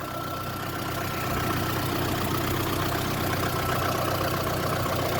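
A 2006 VAZ Lada 2110 with a 1.6 petrol eight-valve engine idles steadily nearby, an even low hum with a faint rhythmic tick that swells slightly after the first second and then holds constant.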